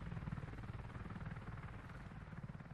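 Helicopters in the game Squad, used to carry transport and supplies, give a faint, steady low rotor drone that runs evenly throughout with no voices.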